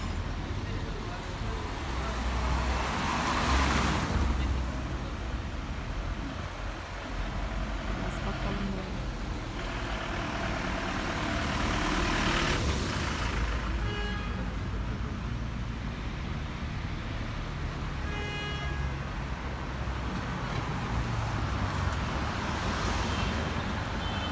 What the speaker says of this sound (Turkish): Biraz hafifledi trafik.